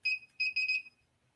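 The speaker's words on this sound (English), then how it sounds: "Let me set the timer." A heat press set to 375 degrees has a digital timer that gives short, high, piercing electronic beeps: one beep, then a quick run of three, loud and close against near silence.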